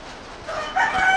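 Backyard chickens and a rooster in a coop during heavy rain: soft clucking at first, then a rooster's crow rises clearly over it near the end, close by, with no talk.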